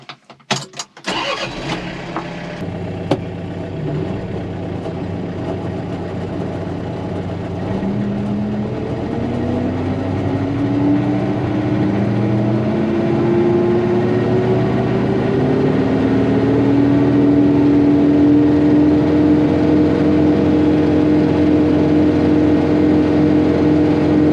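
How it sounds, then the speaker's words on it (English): Haybine mower powered by a tractor at 540 PTO with a new drive shaft, heard as a loud, steady mechanical drone with a whine that builds in pitch and holds, running continuously after a brief clatter at the start. "Mower seems to be doing pretty good at 540, which is what it's supposed to run at."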